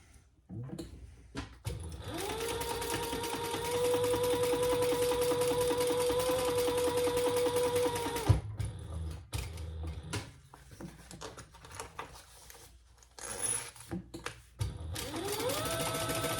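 A sewing machine stitches a seam for zippers on a fabric sling crossbody bag, running in long steady whirring stretches, then stopping and restarting, close and alone.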